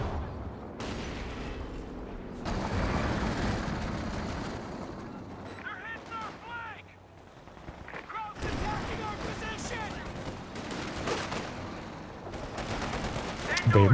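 Battle din from the real-time strategy game Company of Heroes 2, with mortar blasts and gunfire in a 2v2 match. Dense rumbling explosions and crackling rifle and machine-gun fire run continuously, with a voice talking over the chaos.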